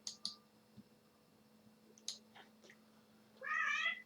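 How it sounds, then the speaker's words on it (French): A cat gives a faint meow near the end, after a few soft clicks and quiet taps in an otherwise hushed indoor room. "Oui, le chat."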